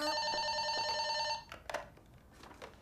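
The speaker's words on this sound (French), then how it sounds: "Maman, téléphone." An old-style telephone bell rings steadily and loudly indoors for about a second and a half, then stops, leaving faint household movement sounds.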